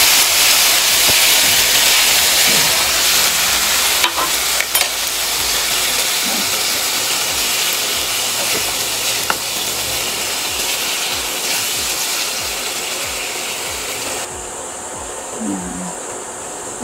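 Beef pieces frying in a hot pan, giving a loud, continuous hissing sizzle up close that eases slightly toward the end, with a few faint clatters.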